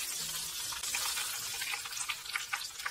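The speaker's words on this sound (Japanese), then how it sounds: "一旦引き上げて、今度は200度で揚げる" Horse mackerel deep-frying in oil at 200 degrees, a steady broad crackling sizzle with bright spitting bursts throughout, close and moderately loud with no talk.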